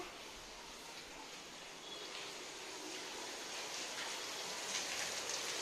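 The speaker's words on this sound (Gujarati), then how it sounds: "અહીંયા જોઈ શકો છો ગાઈઝ વરસાદ ચાલુ થઈ ગયા" Steady rain patters softly on surfaces, a continuous gentle hiss that grows slightly heavier over time, with no voices.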